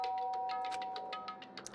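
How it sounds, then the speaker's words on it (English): A doorbell pressed in the video game Danganronpa Trigger Happy Havoc rings as a short run of bright electronic chime tones over a steady tone, repeating quickly and evenly with no voices. "Byakuya stood in front of the door, not making a sound, and pressed the doorbell."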